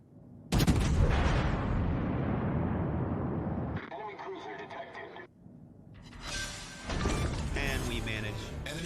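Warship guns fire a salvo in a naval battle game: a sharp loud blast rolls into a long booming decay, followed by further crackling, rumbling shots, all close and heavy.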